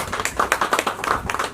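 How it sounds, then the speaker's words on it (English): Scattered clapping from a small crowd at a magazine launch evening comes in uneven bursts rather than a full wave, with a few voices mixed in. "huge round of applause"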